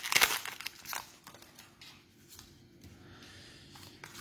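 Foil wrappers of Pokémon Eevee Heroes booster packs crinkle and tear up close, with a sharp rip at the start followed by softer rustling and crackling handling.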